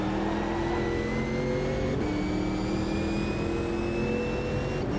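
Race cars, including a Ginetta and a McLaren, roar along in the Automobilista 2 racing game. Several engines hold a steady, close drone with gear-shift pitch rises.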